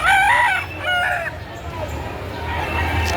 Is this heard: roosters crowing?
yes